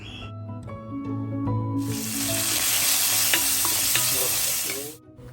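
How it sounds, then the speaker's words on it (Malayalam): Chopped tomatoes stirred into a hot pan for a Palakkad-style koorka and thuvara dish, with a few clinks before a loud close sizzle bursts up and holds with scraping stirs, then cuts off. "ആവശ്യത്തിന് തക്കാളി നമ്മൾ കൈകൊണ്ട് തന്നെ അരിഞ്ഞ് അതിലേക്ക് ഇട്ടിട്ടൊന്ന് ഇളക്കിയെടുക്കണം കേട്ടോ"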